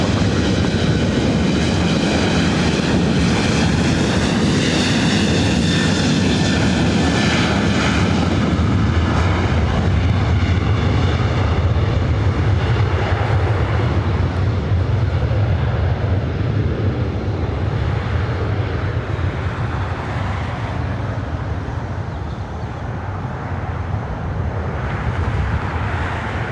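An airliner bound for Phoenix takes off on runway 24 right at LAX, its jet engines a loud, sustained roar that builds and holds throughout, with a broad rumble under a whining tone.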